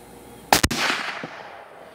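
A single sharp rifle shot from a long-barrel CVA chambered in 350 Legend, fired with a suppressor can attached, cracks once close by and trails off into a short fading echo.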